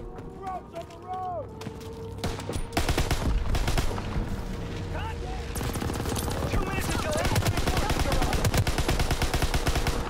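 Suppressive gunfire fills a Call of Duty WWII War Assault match: sustained automatic and rifle fire, close and loud, with heavy crackling volleys building midway and voices heard beneath.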